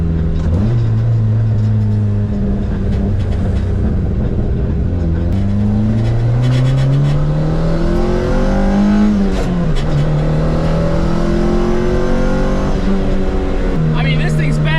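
Nissan 240SX drift car with a boost leak, engine revving hard from inside the cabin during a ride-along at a Final Bout drift event, loud sweeping rises and falls in pitch with shifts, people talking over it.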